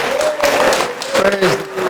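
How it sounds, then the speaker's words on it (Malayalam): A retreat congregation claps hands in thanks, with short bursts of applause mixed with voices talking over it. "കൈയടിച്ച് കർത്താവേ നന്ദി പറയായിരിക്കും"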